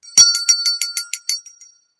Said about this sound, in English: when I ring it, I remember my father.